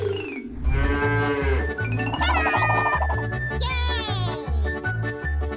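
Mooing cow calls on a farm ring out over a bouncy, rhythmic musical backing, loud and sustained across the whole stretch.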